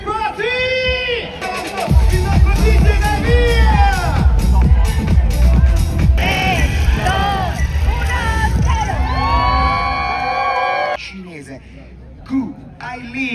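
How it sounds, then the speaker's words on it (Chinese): Spectators at a freestyle skiing event cheer and shout loudly together for their country's athletes, a dense crowd roar with rising whoops and excited voices, fading toward the end. "大家都是自由的站在场边，各自为自己国家的运动员激动的加油欢呼"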